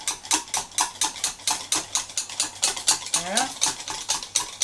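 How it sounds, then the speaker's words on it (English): A sugar body scrub mixture is whisked briskly in a bowl, a fast regular train of close scraping swishes. One short word is spoken partway through. "I put some of it in there, and I just gently whisk it"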